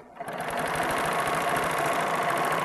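Serger overlocker running steadily, stitching a rolled hem along the edge of muslin fabric; a continuous close, loud mechanical whir that starts after a brief quiet moment and holds without pause.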